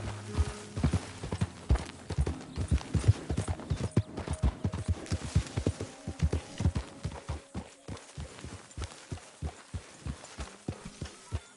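Steady horse hoofbeats in the video game Red Dead Redemption 2 clip-clop in a regular trotting rhythm, close and fairly loud, slowing toward the end with some faint background ambience.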